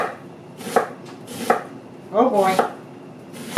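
A knife slices and chops through an onion on a board, giving a few sharp separate cuts with a brief exclamation from a person in between.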